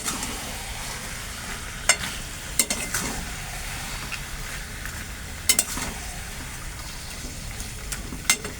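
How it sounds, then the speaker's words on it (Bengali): Salted mutton is stirred and fried in a pan for mutton curry: a steady close sizzle runs throughout, with sharp spatula clacks against the pan at irregular intervals. "দিয়ে এবার এটাকে কষিয়ে"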